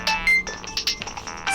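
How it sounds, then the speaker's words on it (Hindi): A phone ringtone plays for an incoming call: a bright, quick, bouncy electronic melody of short tones, close and clear, with no voices. "यादव सर का फोन है।"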